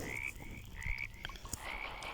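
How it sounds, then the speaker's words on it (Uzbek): Frogs croaking in a quiet outdoor spot, several faint raspy calls repeating at irregular intervals over low background noise, with no talking. "Do'stlar, men kutgan kun keldi. Что, qurbaqalar keldi."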